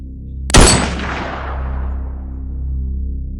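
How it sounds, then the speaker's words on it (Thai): A single loud gunshot cracks sharply in a forest, then echoes and rolls away into a long fading boom over a low rumbling background. "ก็ไม่รอช้า เหนียวไกลระเบิดกระสุน ใส่มันอีกรอบ"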